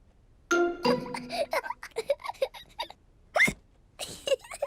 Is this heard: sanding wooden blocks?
no